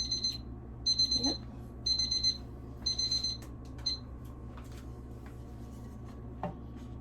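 A Harney and Sons tea timer alarm rings in four short bursts of rapid high beeping, each about half a second long, with brief gaps between them, over a faint steady room hum.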